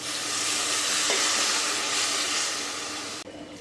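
Vegetables with fresh fenugreek leaves sizzle loudly in a hot pan as water is poured in, a steady dense hiss that continues throughout before cutting off sharply near the end.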